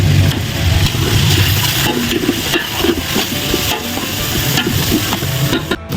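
Beef caldereta cooking in a pan, with steady close sizzling and frying plus repeated stirring and scraping throughout, loud and continuous with no talk.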